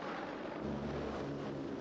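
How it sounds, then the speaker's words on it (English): Military aircraft, helicopter gunships and jet fighters, fly overhead in a show of force during an amphibious landing, a steady broad engine roar that holds level throughout without a clear pass. "Overhead, helicopter, gunships and jet fighters staged a massive show of force."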